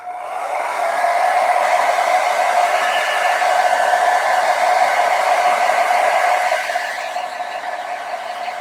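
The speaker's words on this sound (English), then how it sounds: "I'm also gonna again use my blow dryer just to hasten it" A blow dryer drying watercolor paint on hot pressed paper runs as a steady, loud whooshing hum for several seconds, then drops slightly in level near the end, with no talking.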